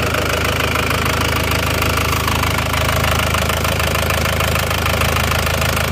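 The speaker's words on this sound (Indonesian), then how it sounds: "Mesinnya halus permata, ada tek-tek ini, tapi mungkin karena efek lama belum dihidupkan." A car engine idles steadily after sitting unused for three years, with a continuous rough rumble and a light, repetitive ticking running through it the whole time.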